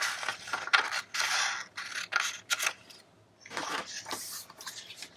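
Scissors snip through a paper pattern for turning jeans into bell bottoms, a run of close, crisp cuts and rustles in uneven bursts with a short pause partway through.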